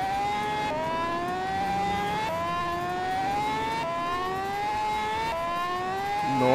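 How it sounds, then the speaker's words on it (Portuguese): Motorcycle in the GTA video game held at top speed, a steady high engine whine with rising harmonics that keep climbing in repeated shift-like steps, continuous and loud with no talk. "Ele já tá no top speed da moto aqui, ela ainda continua acelerando."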